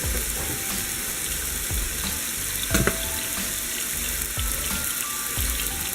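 Three seasoned fish pieces sear in a hot pan for a curry fish stew, a dense continuous sizzle and crackle with a few scraping stirs and clinks, close and fairly loud, with no talking.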